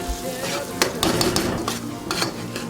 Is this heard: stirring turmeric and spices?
yes